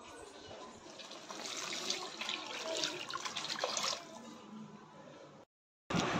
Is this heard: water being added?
yes